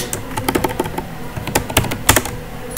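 Fingers type on a computer keyboard in rapid, uneven bursts of close, crisp key clicks, with no voices over them.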